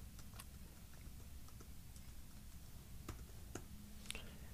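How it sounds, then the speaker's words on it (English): Keys on a computer keyboard are tapped in short, scattered clicks while a project name is typed, quiet and close against a steady low hum of room noise, with no talk. "I'm going to go ahead and type in a name."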